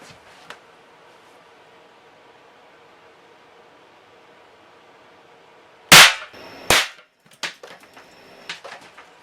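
Several sharp .22 caliber shots from a Colt Model 4 derringer replica fired outdoors, one loud crack followed by a second and a few quieter reports, each brief and distinct after a long quiet stretch.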